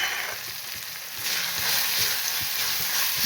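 Spices sizzle and crackle in hot oil in a pan for a curry of drumstick pods, a steady close frying hiss with faint stirring taps, growing slightly louder partway through.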